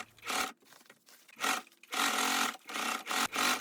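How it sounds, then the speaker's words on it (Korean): Sewing machine stitching the outer fabric of a padded coat along the front edges after the neckline, running in several bursts of steady whirring separated by short pauses. "목 둘레선을 먼저 봉제를 하고 난 후에는 앞쪽에 가장자리를 따라서 양쪽 다 모두 봉제를 합니다."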